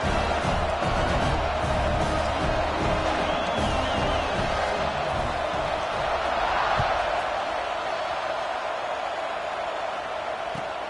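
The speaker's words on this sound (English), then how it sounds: "They're set to kick it off, and this crowd now ready to get behind them." A college football stadium crowd during Kent State versus USC keeps up a steady, dense roar of cheering at kickoff, loud and sustained throughout, with an announcer's voice partly audible over it.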